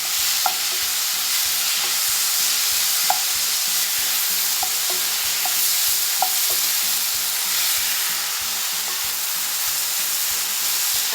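Chicken and tomatoes frying in a pan, a loud continuous sizzle with a steady rhythmic scraping as the mixture is stirred, with no talk.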